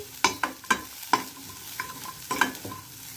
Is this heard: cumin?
yes